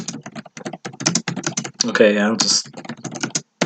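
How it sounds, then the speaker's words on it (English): Rapid typing on a computer keyboard while writing a document, a steady patter of light key clicks running under a man's speech. "So, I can certainly type a document here"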